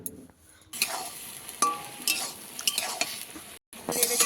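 Cauliflower curry with taro being stirred in a pan, scraping and clinking of the spoon against the metal in short bursts over a soft sizzle, close and moderately loud, with a brief pause near the end.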